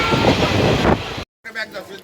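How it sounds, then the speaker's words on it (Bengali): A passenger train pulling into Dubrajpur station on the route from Howrah gives a loud, steady rumble that cuts off abruptly. After a short silence, softer voices and faint background movement follow. "আমাদের ট্রেন এখন দুবরাজপুর স্টেশন আসছে।"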